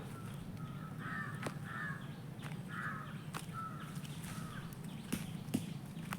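Crows caw repeatedly in a village mango orchard, a series of harsh calls at moderate distance over a steady outdoor background, with a few sharp knocks and rustles between them.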